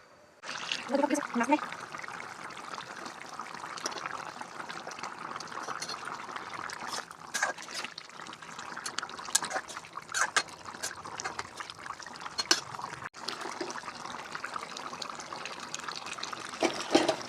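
Broth poured into a cooking pot of fish curry in a home kitchen, a steady trickling, splashing pour running close by for most of the stretch, with a voice speaking over it now and then.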